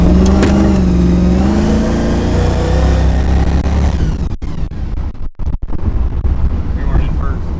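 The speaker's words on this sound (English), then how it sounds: "Right now, it just wants to spin the tires." A car engine roars loud and steady as the tires spin, with heavy wind buffeting the microphone and voices talking over the noise.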